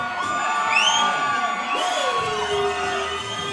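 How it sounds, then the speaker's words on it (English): A crowd at a tournament yells, whoops and screams, with rising and falling high-pitched shouts and cheers layered over a steady roar of many voices. "people are yelling and screaming"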